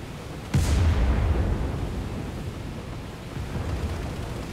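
An 85 mm naval cannon fires in War Thunder from an MPK Pr.122 bis submarine chaser. One heavy, close boom rolls into a long decaying rumble, and a fainter thud follows a few seconds later.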